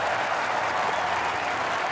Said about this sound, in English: What is it with this crowd? They're going nuts.